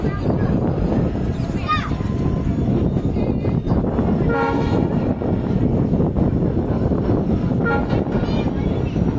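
A daily passenger train running on a route toward Nagercoil and Tiruchendur: loud, continuous close rail rumble and clatter, with several sharp horn blasts near the start and middle, and a voice talking over it.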